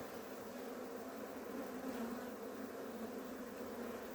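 Honeybees in an open, long-queenless hive in Adana in February give a continuous, even buzzing drone, soft and steady with no pauses or voices.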